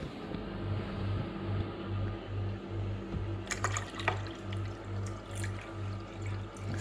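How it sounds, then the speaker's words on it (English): Water poured from a jug into the reservoir of a Brinsea Ova-Easy incubator, a continuous close liquid splash and gurgle over a steady low hum. "fill it up to the top"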